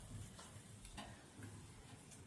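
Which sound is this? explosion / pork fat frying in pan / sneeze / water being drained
pork fat frying in pan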